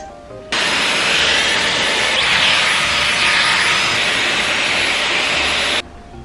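A Dyson Airwrap hair styler fitted with the 1.2 inch barrel blows hot air in one loud, steady, close whoosh lasting several seconds, switching on and off abruptly.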